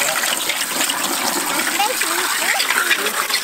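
Water spraying from a hose nozzle switched to a jet setting, used to clean dirty Lego pieces: a steady close hiss and splatter of water under children's and adult voices talking throughout.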